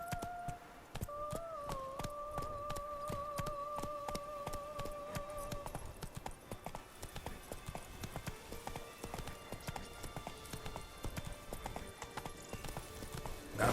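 Steady clip-clop of Roach's hooves from The Witcher 3: Wild Hunt, an even trotting rhythm that continues throughout, with a tonal in-game whistle-like sound over the first half.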